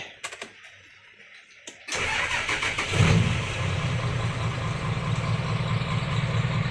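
A car engine cranks and catches after soft clicks and rustling, then settles into a steady, close rumbling idle that runs on alone while parked in the rain.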